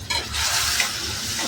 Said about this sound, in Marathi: 5 मिनटं आपण ती छान परतून घेऊ तेलावर